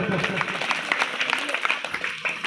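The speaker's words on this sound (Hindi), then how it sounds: "तालियां बजा दो जबरदस्त" Lively clapping from guests at a Hindu wedding ceremony while performers are honoured with garlands and turbans; brisk, close applause at a steady level, briefly thinning near the end.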